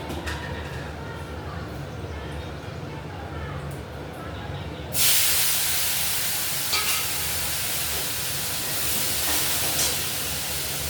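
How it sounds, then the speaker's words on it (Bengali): Potatoes and green peas drop into hot oil in a pan for a hilsa fish head and cabbage curry, and a loud, bright sizzle starts suddenly midway and keeps hissing near and steady after a quieter stretch. "এটা দেওয়ার আগে আলুটা আর মটরশুঁটিটা আমি দিয়ে দিচ্ছি।"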